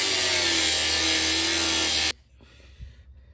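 A tool cuts through the thick metal of a B5 VW Passat 1.8T car muffler with loud, steady grinding for about two seconds. It then stops abruptly, leaving faint clatter.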